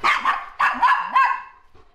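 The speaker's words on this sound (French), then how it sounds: "Je vais chercher Drogon, mon deuxième chien, un berger allemand." Dogs in a home, a German shepherd alongside a small chihuahua, give a quick series of about four loud, close barks, some higher and yippier, fading out at the end without any talk.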